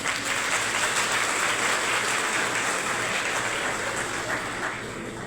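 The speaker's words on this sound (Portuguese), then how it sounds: "Uma salva de palmas." Sustained applause from a congregation at a church gathering, dense and steady clapping that fills the whole stretch and tapers slightly at the end, no voices heard over it.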